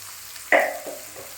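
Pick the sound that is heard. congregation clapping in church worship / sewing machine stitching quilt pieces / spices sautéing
spices sautéing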